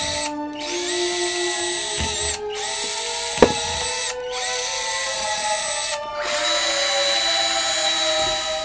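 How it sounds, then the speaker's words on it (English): A power drill bores holes through a 3D printed plastic box for an Aliens motion tracker prop, its steady high whine running in several long bursts separated by brief pauses, close and loud. "we're drilling some holes for better sound quality"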